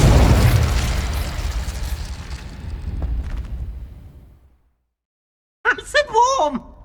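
A Confringo explosive spell blast in Hogwarts Legacy, a loud booming burst that rumbles and fades over a few seconds into silence, followed by a short voice.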